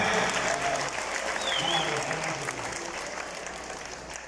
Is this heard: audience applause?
yes